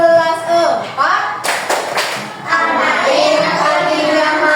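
A fourth-grade Indonesian class claps to the Asmaul Husna chant, a few sharp, close hand claps in a rhythmic pattern set between children's chanting voices.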